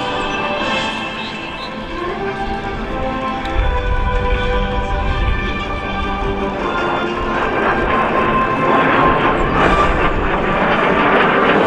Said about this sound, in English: The T-33 you see here today was developed from the Lockheed P-80, F-80 starting as a TP-80C